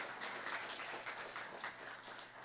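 A church congregation gives a warm round of applause, many hands clapping together in a steady, even wash of sound. It is heard from some distance and is fairly soft.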